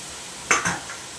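Two quick sizzling stirs of papaya and green chilli in a pan with a little potato and fish head, brief scraping bursts over a quiet kitchen background.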